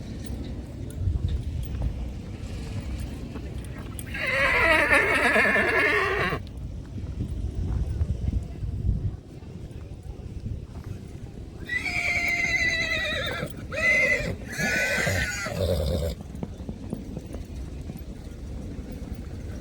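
A fine-looking racing horse at a horse race whinnies loudly in two bursts, the second a long rising-and-falling call, over a steady noisy outdoor background with faint hoof clops and low rumble.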